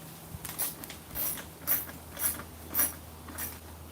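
Ratcheting clicks from a wrench tightening the plastic-threaded spark plugs on a 1998–2011 Ford Crown Victoria, a few soft mechanical strokes spaced about half a second apart, quiet and close with faint hum beneath.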